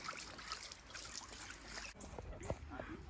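Water splashing and trickling outdoors, a continuous busy wash with small splashes, while people talk nearby.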